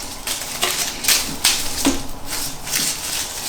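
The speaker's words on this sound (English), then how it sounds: "So just rip off those pieces of foliage." Foliage being torn by hand for a Christmas wreath, a series of sharp crackling rips and snaps at close range, spaced irregularly with no talking.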